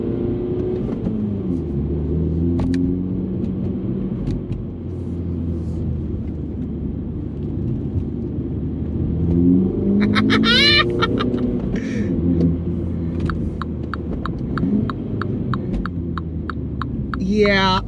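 Mini John Cooper Works hardtop engine rumbling and accelerating from inside the car, a steady low drone that rises in revs with a brief gear-change surge midway; a voice speaks faintly over it.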